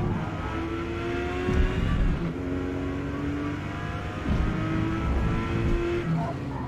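A Porsche 911 engine driving in Forza Motorsport, a steady engine drone with shifting revs and occasional surges and tire noise, close and continuous.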